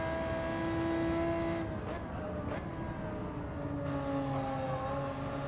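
A Group 3 race car engine in a racing video game holds a steady high-pitched drone, loud and continuous, with a brief mechanical burst partway through.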